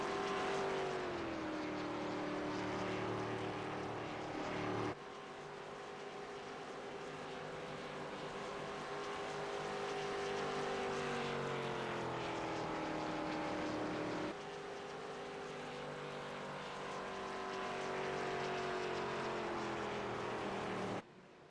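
Race cars in the Vaportrail Cup Series circle Pocono behind the pace car, a steady layered engine drone whose pitch rises and falls gently, continuing without pause apart from a couple of abrupt shifts.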